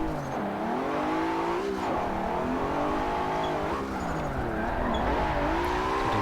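A car in a racing sim video game drives with a continuous loud engine drone whose pitch rises and falls as it accelerates and shifts through corners.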